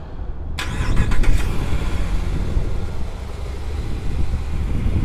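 A 2015 RAM 2500 Power Wagon with a 6.4L engine starts remotely: a sharp click, a brief cranking burst, then a steady, fairly loud idle rumble continuing alone.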